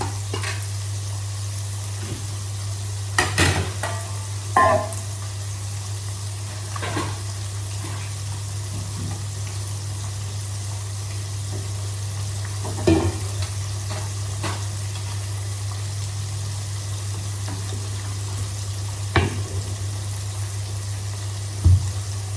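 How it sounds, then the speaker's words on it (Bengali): Small fish frying in oil in a pan, a continuous sizzle with occasional sharp crackles and spatters, close and steady, with no talking over it. "মাছটা ভাজা হতে হতে আমি তরকারির জন্য কুমড়োটা কেটে নেব।"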